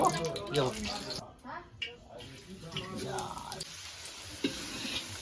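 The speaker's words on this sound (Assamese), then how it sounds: "মাংস ভাজি আছে" Meat sizzles and crackles in a hot wok while a utensil stirs and scrapes, with people talking over the frying throughout.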